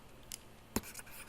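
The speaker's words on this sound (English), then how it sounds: "let me write it again" A pen writes briefly on a surface with a few short, faint scratching strokes, close by and otherwise quiet.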